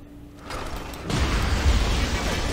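An explosion in John Woo Stranglehold erupts after a quieter lead-in, its sudden onset giving way to a loud, sustained rumbling roar.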